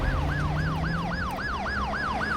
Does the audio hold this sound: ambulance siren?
yes